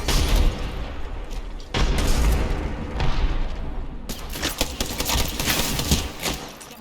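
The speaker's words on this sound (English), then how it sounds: "They tossed so many grenades at us." Apex Legends battle sounds: loud grenade booms and rattling gunfire in a chaotic firefight, with dense, continuous bursts and sudden blasts filling the whole stretch.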